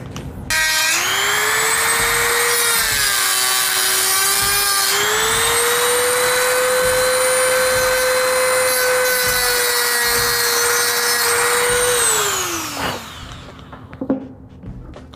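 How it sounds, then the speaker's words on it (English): A high-pitched Dremel rotary tool cutting a metal bracket whines steadily for about twelve seconds, its pitch shifting slightly under load before spinning down; loud and close, no talking. "now we're gonna Dremel"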